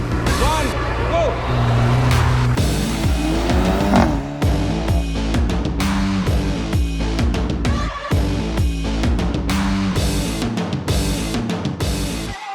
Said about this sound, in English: Our enthusiasts also getting to experience the performance of the A45 AMG and the traction of the 4MATIC all-wheel drive on the slalom course